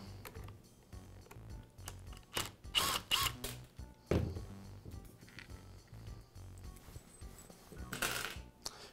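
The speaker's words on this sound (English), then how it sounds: "I'll remove the 4 screws that secure the gearbox to the motor housing." Screws being removed from the gearbox housing of a Makita polisher: close, faint metallic clicks, taps and brief whirring bursts of a driver, scattered irregularly with short louder clatters.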